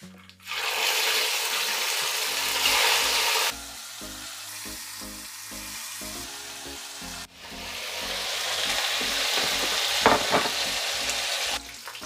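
Chicken wings sizzling and browning in hot oil in a pan, a loud steady frying hiss with occasional stirring and a brief break in the middle.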